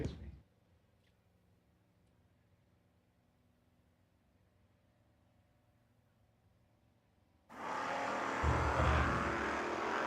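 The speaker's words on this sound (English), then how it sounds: "Chris Fitton, right side. In the Camaro, 755 to dial in" Drag race cars, including a Camaro, launch hard at a footbrake-challenge drag race: after a long stretch of quiet background, a loud, sustained roar of engines bursts in near the end and holds at full volume.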